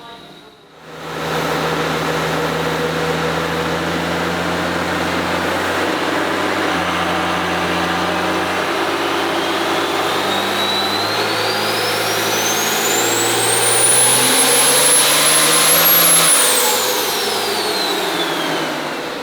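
A twin-turbo Duramax diesel pickup with a VP44 injection pump roars loudly on a dyno, a sustained engine drone climbing in pitch with rising turbo whistle near the end before easing off.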